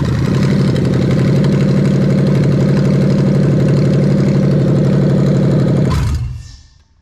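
Loud, steady idle of a 1UZ-FE engine with a fault, throbbing low rumble, running continuously before cutting off abruptly near the end and fading out.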